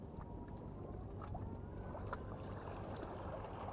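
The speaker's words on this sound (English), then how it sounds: "the first thing you notice is how quiet the engine is. It's really, really quiet, quieter than other electric outboards I've used" A Mercury Avator 7.5e electric outboard motor runs in reverse on a boat, producing a steady, low, even hum and water wash that hold constant throughout, with faint wind and occasional soft splashes.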